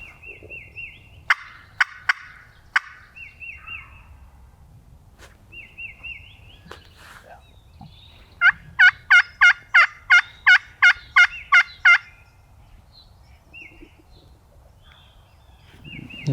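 A wild turkey on public land gobbles, with a rapid run of loud rattling calls in the middle, while other short, sharper bird calls come earlier over a quiet outdoor background.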